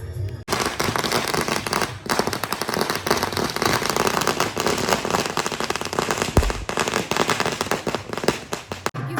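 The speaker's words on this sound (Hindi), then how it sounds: "देखिए सब पटाखे फोड़ रहे हैं।" Firecrackers burst outside at a wedding, a dense, nonstop crackle of rapid pops and sharp bangs heard from a short distance.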